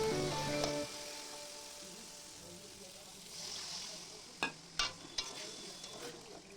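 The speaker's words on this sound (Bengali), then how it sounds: "তো চলো মাছের ঝোলটা রান্না করে নিই" Fish curry cooking in a pan, a soft steady sizzle and stirring throughout with a few sharp clatters of a utensil against the pan near the end.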